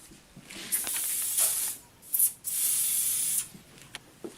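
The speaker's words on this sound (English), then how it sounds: "spray it between applications of color because you want the glue solution mixed so that all the enamel is damp with the glue" Glue solution sprayed onto porcelain enamel in repeated hissing bursts, a couple of longer sprays with short pauses between, close and moderately quiet, no talking.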